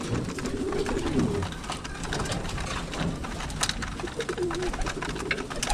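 Pigeons coo repeatedly nearby at a pigeon loft, soft throaty calls over a busy background of flapping and shuffling.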